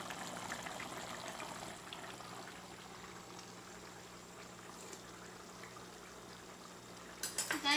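Pepián de costilla, a rib stew, boiling in a pot, giving a faint, steady bubbling and simmering hiss that runs throughout, with a short clatter at the end.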